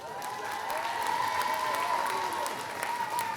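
A crowd applauds the winners of a cosplay contest on stage at an anime convention in Rouen, a steady sustained wash of clapping from a sizeable audience, with no voices breaking through.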